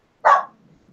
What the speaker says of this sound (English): Mark, Foxy, what are you barking at? The door?